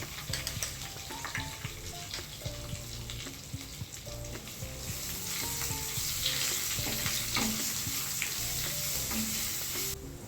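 Green chillies and ginger-garlic paste sizzle in hot oil, a continuous close crackle with scattered pops and faint metallic stirring clicks that grows slightly louder halfway through, with no talking.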